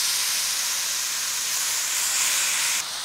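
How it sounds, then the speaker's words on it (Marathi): A ground mixture of coconut, jaggery and turmeric is tipped into ghee with fried cashews and almonds, giving a loud, continuous sizzling hiss that stays steady and close, then drops off abruptly near the end. "आता हे मिश्रण यामध्ये घालायचं आहे"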